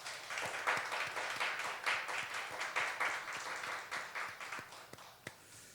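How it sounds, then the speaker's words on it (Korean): Church congregation clapping to welcome someone at a late-night Friday prayer meeting, a fairly faint, continuous round of claps with a few louder individual hits, no talking over it. "우리 박수로 환영합니다"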